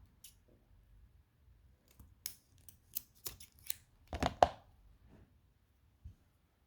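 Scissors snipping through envelope paper, a string of sharp close clicks and cuts, sparse at first and then bunching into a quick cluster before a final lone snip, with quiet gaps between.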